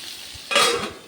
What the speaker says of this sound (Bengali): নাড়াচাড়া করে ঢাকা দিয়ে দিয়ে সেটা ভেজে নেব